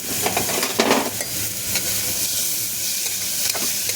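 Ingredients fry lightly in a pan with a constant close sizzle and occasional stirring scrapes of a utensil, no voices over it.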